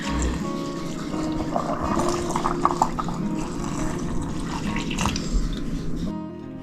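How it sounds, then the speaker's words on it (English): Water pours steadily from a container over apple scraps in a jar, a continuous close splashing and gurgling fill that tapers off near the end. "we're gonna pour the water"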